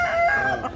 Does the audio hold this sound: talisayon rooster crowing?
yes